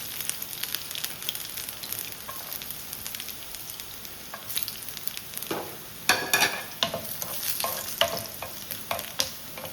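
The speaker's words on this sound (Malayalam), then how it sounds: "എണ്ണ ചൂടായി വരുമ്പോൾ അതിലേക്ക് കുറച്ച് വെളുത്തുള്ളി, ഒരു 4-5 അല്ലി വെളുത്തുള്ളി അരിഞ്ഞത്" Four or five cloves of chopped garlic frying in hot oil, a steady close sizzle that turns into louder crackling bursts and spatula stirs in the second half.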